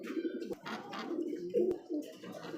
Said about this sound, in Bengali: এটা হচ্ছে রাসগোল্লা কবুতর,